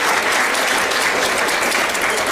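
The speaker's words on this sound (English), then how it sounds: "Give yourselves a big round of applause." Guests at the 15th annual Yuba College Athletic Hall of Fame banquet clap in a loud, continuous burst of applause with no break.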